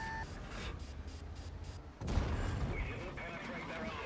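Artillery fire in a tank video game, a heavy gun blast around the midpoint followed by rumbling aftermath and scattered distant gunfire, with brief beeping tones early on over constant battle noise.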